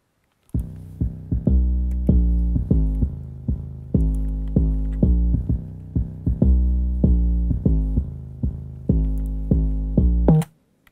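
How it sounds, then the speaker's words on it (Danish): An 808 bass in a music production beat pulses in deep, booming repeated notes with a steady, punchy rhythm, loud and alone for about ten seconds before cutting off. "jeg spillede en, en bas, en 808 bas, der lyder sådan her"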